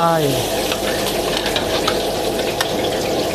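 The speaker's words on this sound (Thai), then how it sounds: "กระเทียมเทลงไป คั่วให้หอมก่อนครับ" Garlic stir-fries in hot oil for a Thai basil squid-egg stir-fry, a loud, close, continuous sizzle with scattered spatula scrapes and a brief voice at the very start.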